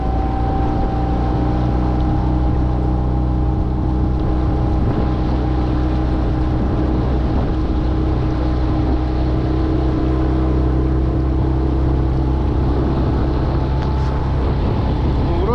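Motorboat outboard engine running steadily on the Pechora river, a loud continuous droning hum with a constant pitch and rushing wind and water noise, no breaks over the whole stretch.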